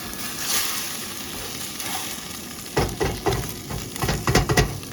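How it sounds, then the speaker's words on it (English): An egg sizzles in a pan over a camp stove, a steady hiss throughout, joined near the end by several sharp scraping knocks as a utensil works under the egg to flip it. "It's time to flip this egg."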